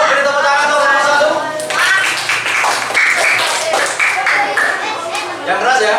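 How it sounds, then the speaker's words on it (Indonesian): Schoolchildren clap for group 1 in a classroom, uneven brisk applause mixed with chatter and voices speaking over it. "Yuk, beri tepuk tangan untuk kelompok"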